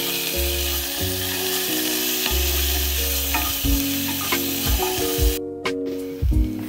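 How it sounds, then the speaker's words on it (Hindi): Ginger and garlic fry in a pan for a restaurant-style chicken soup, sizzling steadily at close range while a utensil stirs and scrapes with intermittent clatters and thumps. "अद्रक आणि लसूण बरें करून फ्राय करून घेवचे"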